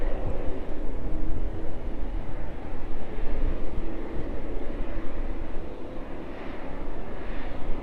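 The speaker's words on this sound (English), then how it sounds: "We shall pan across to the 777. Also continuing its taxi." Boeing 777 airliner taxiing at East Midlands Airport, a steady low engine rumble and roar heard from a distance, continuous and fairly loud throughout with no talk.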